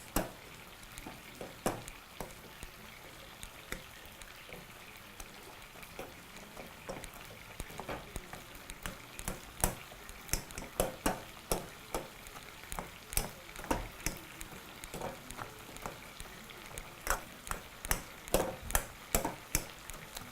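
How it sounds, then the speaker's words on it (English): Boiled potato pieces being mashed with a masher in a pan with some liquid, repeated soft thumps and squelching presses over a low simmering sizzle, getting more frequent toward the end, with no talking. "using your masher, proceed to begin to mash your potatoes"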